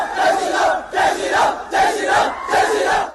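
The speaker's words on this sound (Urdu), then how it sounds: "زعفرانی شعلے لہراتے سینکڑوں طالب علموں کا گروہ جے شری رام کے نعرے لگاتا انہیں ہراساں کرتا ہے" Hundreds of students waving saffron scarves chant Jai Shri Ram slogans to harass a hijab-wearing student, four loud rhythmic chant bursts from a large crowd, one after another.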